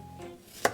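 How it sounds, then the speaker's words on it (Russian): A knife cuts apple into small slices for a pan-baked pie, one crisp, close chop against a cutting board near the end, after a brief quiet moment. "И нарезаю на небольшие дольки."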